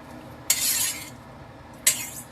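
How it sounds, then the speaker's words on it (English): A spoon stirs a mixture into melted butter in a pan while cooking a chicken rice casserole, giving two short, close scraping strokes about a second apart with a quiet pause between them. "And so we're going to stir it in the butter."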